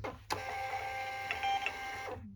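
A desktop printer runs a shipping label: a short mechanical whir and feed lasting about two seconds, starting with a click and ending as the paper stops, close and steady with no talk.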